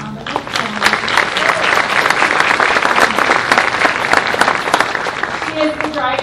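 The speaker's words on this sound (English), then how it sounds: "If we could all give a little round of applause." Dense, sustained applause from a crowd at an outdoor municipal band concert, continuous clapping filling the whole stretch at close range, loud and unbroken.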